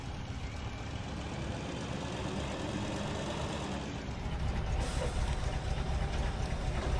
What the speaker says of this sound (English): it's a proper chunky old diesel engine noise, isn't it?